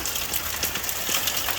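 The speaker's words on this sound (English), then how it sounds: "but it's raining." Rain falling outdoors, a steady dense hiss of drops with light irregular patter, close and continuous.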